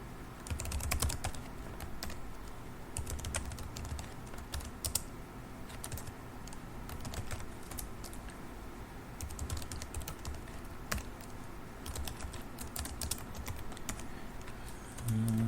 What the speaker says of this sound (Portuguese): Eu gosto de digitar porque vou fixando, né, cada vez mais e mais.